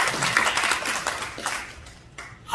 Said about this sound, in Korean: 우리 다시 한번 크게 박수로.